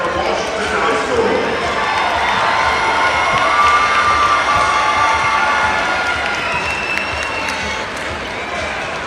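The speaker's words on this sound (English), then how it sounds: "Fans, a round of applause for the Pampak from Washington High School." Fans in a high school basketball gym at a regional final cheer and applaud loudly for the Washington team, a sustained wash of clapping and shouts with an announcer's voice over the crowd.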